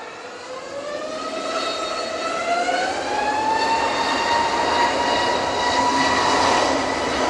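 A Jet2 airliner passes overhead: a loud, steady jet roar, with whining tones that climb and then level off, building over several seconds and continuing without any voices.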